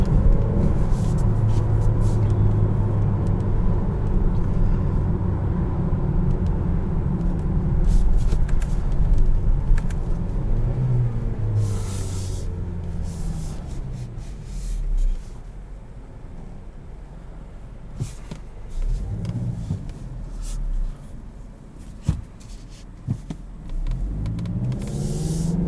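Interior drive of a 2021 Mazda CX-9 Grand Touring with the engine holding revs, a steady low engine drone and road rumble throughout, with occasional clicks and bumps.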